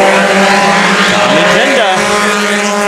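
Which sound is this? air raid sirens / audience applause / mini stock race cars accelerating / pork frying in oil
mini stock race cars accelerating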